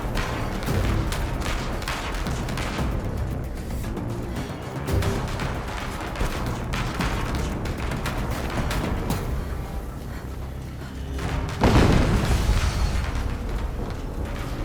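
An explosion in the video game Horizon Zero Dawn Remastered comes as a heavy burst near the end, rising out of a continuous rumbling, mechanical battle din.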